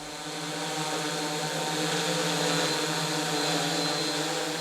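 Continuous droning engine and rotor whir, steady and fairly loud, swelling slightly as it holds without pause.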